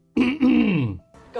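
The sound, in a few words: throat clearing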